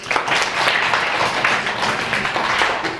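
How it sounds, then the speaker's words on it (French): Classroom of pupils applauding a classmate who answered correctly during a French reading lesson, a steady dense patter of small hands clapping throughout, fairly close and even. "Applaudissez-la."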